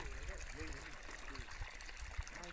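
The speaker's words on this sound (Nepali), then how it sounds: "यहाँबाट चाहिँ माई खोला बग्दो रहेछ" Water trickles steadily from a small pond at the source of the Mai Khola river near Sandakpur on the India–Nepal border, a constant close wash with voices talking over it.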